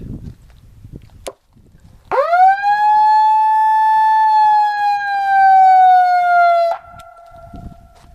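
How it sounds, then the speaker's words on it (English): A loud electronic megaphone siren wails in one sustained, slightly falling tone for several seconds, then cuts off abruptly, leaving a brief lower tail. "It does have a siren."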